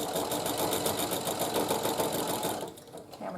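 A sewing machine back stitches on a quilted table runner, producing a rapid, close, steady mechanical chatter that stops abruptly near the end.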